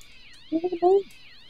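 Several short cat meows in Minecraft come in a quick cluster of three or four calls, the last one longer, over a faint steady game background.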